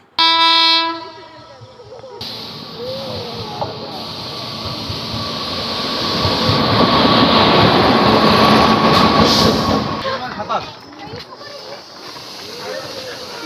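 Train at Rampur railway station, opening with a short, loud horn blast, then a long rolling rumble and hiss of passing carriages that grows louder and fades, with people talking nearby.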